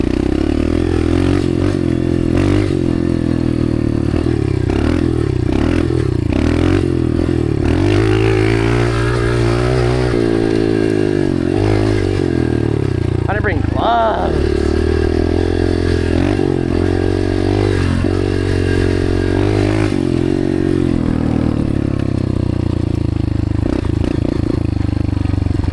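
A dirt bike on a track day, its engine loud and close, revving and dropping continuously with rising and falling pitch sweeps and some clatter, with no speech.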